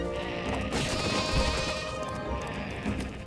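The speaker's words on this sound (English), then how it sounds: "stupid sheep. Give me your lamb chops" Sheep in the Wii game How to Train Your Dragon bleat loudly and close, a wavering, rising cry over a busy game backdrop with faint hoof-like clatter.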